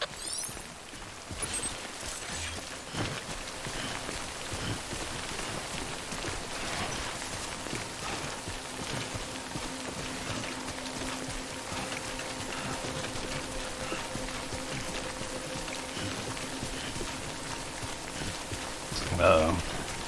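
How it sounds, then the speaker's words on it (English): Steady broadband rain hiss falls across the whole stretch in Death Stranding, with faint hoof-like clatter and a brief brighter burst near the end, while speech murmurs along underneath. "Good thing it was raining."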